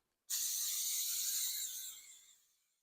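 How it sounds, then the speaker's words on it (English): Vegetable cooking spray hisses from an aerosol can onto a casserole dish in one steady, close burst of about two seconds that trails off. "putting a coating of vegetable spray on it and set that aside"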